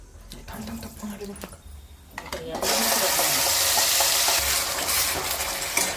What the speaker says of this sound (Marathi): बघा मित्रांनो की तेल सुटेपर्यंत तर असा मसाला तळून घ्या